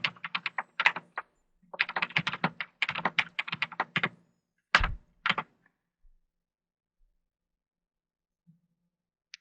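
C# code is typed on a computer keyboard in quick bursts of close, crisp keystrokes with short pauses between them, then a heavier thunk, a couple of isolated taps and near silence.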